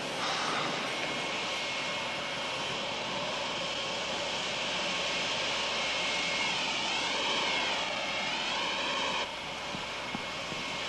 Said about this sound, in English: We've got to stop that jet.